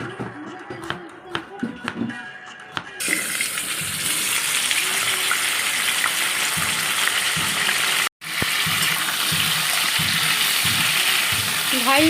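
Potatoes frying in oil in a pan, a loud steady sizzle that starts abruptly after a few seconds of clattering and handling, then continues evenly with a brief cut midway.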